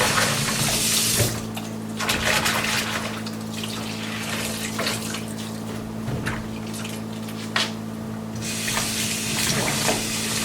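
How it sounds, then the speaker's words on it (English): Fresh soapy water runs from a tap into a sink, a steady close rushing splash with a low hum beneath it, easing briefly mid-way before the full flow resumes. "we're going to put some fresh soapy water in there"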